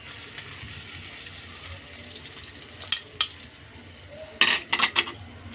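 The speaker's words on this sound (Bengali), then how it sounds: "চুলায় আমি সয়াবিন তেল দিয়ে দিয়েছি গরমও হয়ে গেছে দেখুন তাহলে আমি এখন যে ডিমটা মেখে রেখেছিলাম দিয়ে দিচ্ছি" A beaten egg is poured into hot soybean oil in a pan. Faint sizzling and stirring build, then closer, louder splashy crackles and hisses arrive near the end.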